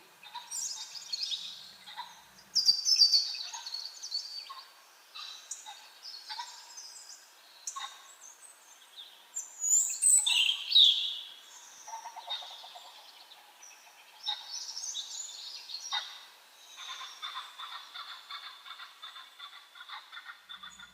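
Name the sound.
birdsong, bird calls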